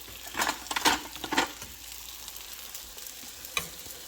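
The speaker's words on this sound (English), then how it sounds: "Now we're going to add some beans." Beans, some still frozen, go into a pan of chicken and yellow rice, giving a few sharp scraping and clattering stirs with a spoon over a soft sizzle, then a quieter stretch and one last scrape near the end.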